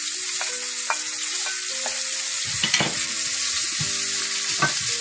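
Onions frying with curry leaves in a pan for pakora curry, a steady close sizzle with intermittent stirring scrapes and clinks throughout, no talk.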